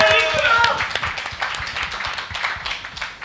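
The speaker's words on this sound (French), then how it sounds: "On applaudit." A student crowd at a campus event applauds with steady dense clapping that builds and holds, close and lively, with voices chattering and calling out over it.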